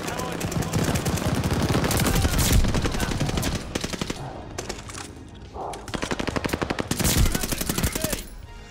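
Long bursts of LMG machine gun fire from a 300-round magazine in the shooter game Vanguard, rapid and loud, running for several seconds, breaking off briefly and then resuming, with occasional voices underneath.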